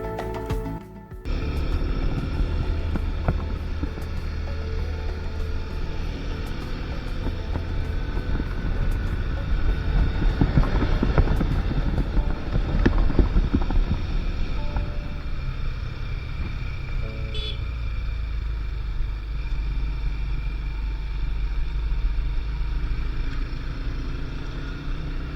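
A motorbike runs along a mountain road between Taxila and Abbottabad near Nathia Gali with a steady close engine drone and heavy wind rush, swelling slightly midway, and no talk.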